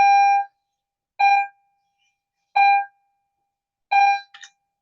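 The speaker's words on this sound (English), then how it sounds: "that's the next bell for the school day" A school bell sounds four loud, separate electronic rings, each about half a second long, evenly spaced with silence between them, heard close and clear without speech.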